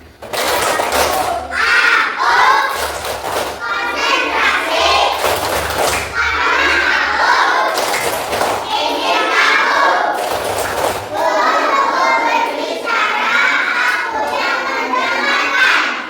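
Schoolchildren in a primary classroom doing a rhythmic counted clapping routine, with loud bursts of group claps and thumps alternating with children chanting and shouting together.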